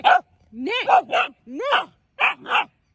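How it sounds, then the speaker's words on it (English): A dog barks close by in a quick series of about six sharp, yelping barks, some rising in pitch, separated by short pauses. "No barking at mama."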